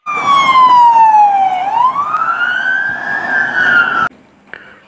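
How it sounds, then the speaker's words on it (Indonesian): A toy police patrol car's electronic siren wails loudly and up close, sliding down then rising in pitch before cutting off abruptly, followed by a faint click. "Di sini ada mobil polisi patroli."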